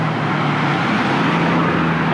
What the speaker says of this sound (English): After this black car, we'll be able to cross.